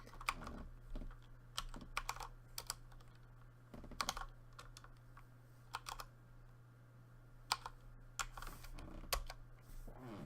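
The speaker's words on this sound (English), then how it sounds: "But you can type OX804808E in here." Keystrokes on a computer keyboard as a memory address is typed into a debugger, a near, steady run of crisp clicks in short irregular bursts over a faint hum.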